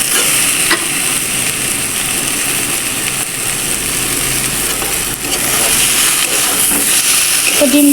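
Eggs are stirred into a green banana egg curry, which sizzles loudly and steadily in the pan, with occasional soft scrapes of the spoon under the constant frying hiss.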